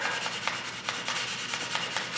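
Steady back-and-forth rasp of sandpaper on a guitar body coated in sanding sealer, close and continuous with regular stroke pulses and no voices.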